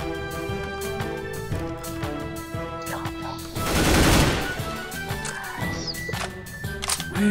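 Auto sniper fire in a tactical shooter game, a string of sharp, separate shots over game music, with a louder burst of noise near the middle.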